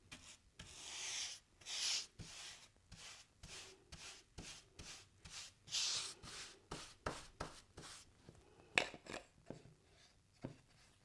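A brush works finish onto the surface of a framed antique piece in steady back-and-forth strokes, producing close, soft swishing and scrubbing rasps with brief pauses between them.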